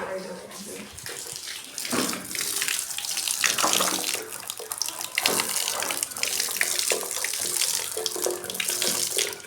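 Water pours steadily into a fridge box being set up as a guppy fish tank, a loud continuous splashing gush that runs without a break.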